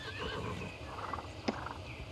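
A pony whinnies in the Star Stable Online video game, heard near a paddock: a clear, fairly loud neigh over a soft background, with faint hoof clip-clops and a brief sharp tap near the end.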